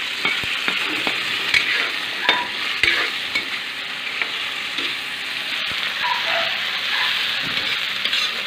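A pan of tomato, onion and garlic sizzles steadily for several seconds. Frequent small ticks and scrapes of stirring sit on top of a continuous frying hiss, close up, with no one speaking.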